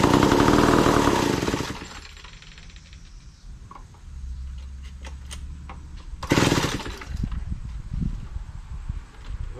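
Vintage Lombard L-50 chainsaw engine, choked, bursting loudly to life, then settling into a rough idle before a second sharp rev, close by with no voices.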